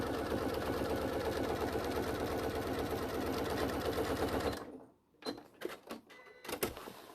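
A sewing machine quilting fabric for a bag runs in a steady rapid stitching rhythm for about four and a half seconds and then stops, followed by a few scattered clicks and handling knocks.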